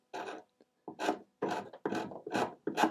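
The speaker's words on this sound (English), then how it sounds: "give it a bit of a scrape to get it right down to the bare wood" Chisel and scraper stripping old finish from a wooden desk down to bare wood, six rasping strokes in steady rhythm, close and fairly loud with short pauses between, no talking.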